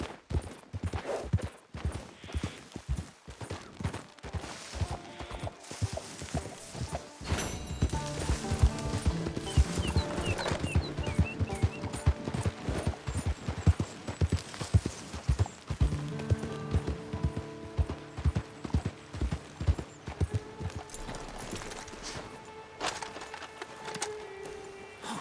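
Horse hooves galloping in the video game Red Dead Redemption 2, a fast, steady run of rhythmic thuds lasting throughout, close and prominent over a soft musical backing.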